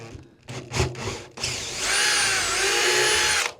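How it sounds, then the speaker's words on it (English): A larger drill bit boring into perspex: a couple of short power-drill bursts, then a sustained high whining, grinding cut that holds steady for about two seconds before stopping abruptly. "So I've got a larger drill bit."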